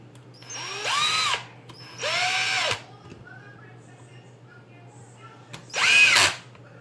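Three loud bursts of a power drill whirring up and winding down while assembling a TLR 8ight-T 4.0 RC truggy, each about a second long, with quieter gaps between them.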